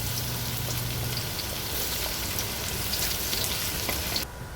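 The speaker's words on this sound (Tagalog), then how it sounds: "Kumukulo-kulo na yung mantika. Isa na natin yung ating bawang." Garlic sizzles in hot oil in a pan as it is cooked for dinuguan. It is a dense, steady crackle close up that drops away abruptly at the end.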